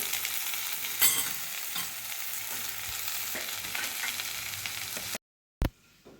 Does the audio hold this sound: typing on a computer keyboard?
no